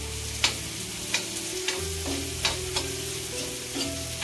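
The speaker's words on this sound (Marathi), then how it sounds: "आता जरा ढवळून घेऊया." Onions and spices fry in a pan for a bitter gourd curry, a continuous close sizzle punctuated by sharp scrapes and clinks of a spoon stirring every second or so.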